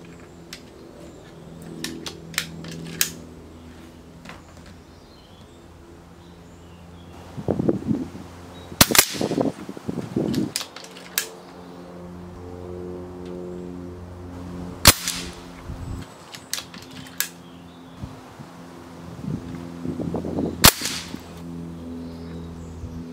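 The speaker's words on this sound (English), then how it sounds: "we'll try the Wolverine R now at 30 metres. So this is the 30-foot-pound rifle at 30 metres." Wolverine R 30 ft-lb .22 air rifle fired outdoors at a 30 metre target: several sharp, distinct cracks spaced a few seconds apart, each a sudden loud snap over quiet background with faint handling noises between.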